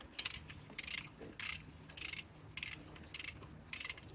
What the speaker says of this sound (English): So I'm going to torque these to 46 foot-pounds.